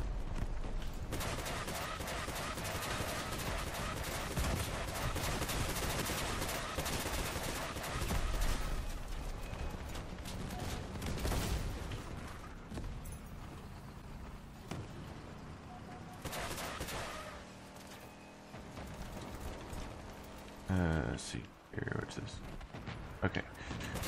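Trombone weapons fire in rapid bursts during a brawl in the vehicle combat game Crossout, dense popping volleys layered with explosions and battle noise over most of the stretch, with a voice talking over it.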